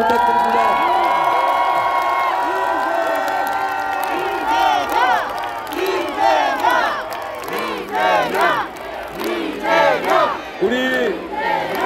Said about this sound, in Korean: 이재명 대표에게 다시 한번 뜨거운 박수와 환호를 부탁드립니다.